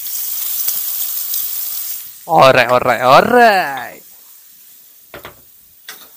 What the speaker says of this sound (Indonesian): Kita bunyi bunyi goreng-gorengan dulu.